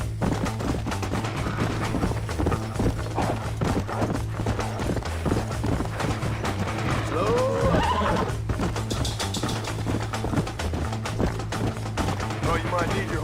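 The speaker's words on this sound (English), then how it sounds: "I got my horsey" Horse hooves clip-clopping steadily with a neigh partway through, set in the Red Dead Redemption video game, with gunfire-like bursts and game sounds in the mix and talk over parts.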